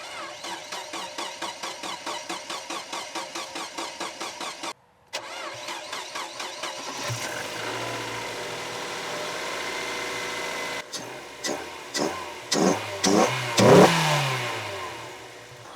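A restored Mazda Miata engine cranks in a long rhythmic run of starter pulses, pauses, cranks again and catches, then settles into an idle broken by several sharp revs, close up with no talking.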